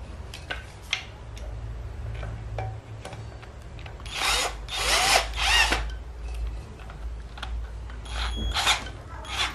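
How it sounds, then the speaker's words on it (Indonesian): A power drill tightens bolts on a lawn mower engine during piston ring replacement, several short whirring bursts with ticking clicks and clatter between, fairly close, no speech. "sekarang kita mau kencangkan bautnya supaya kuat nanti pada saat uji coba"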